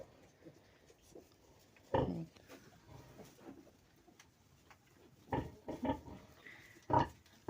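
Newborn piglets on a farm, just after the sow's farrowing, let out a few short, soft grunts, one near the start and a quick cluster toward the end, over a quiet background.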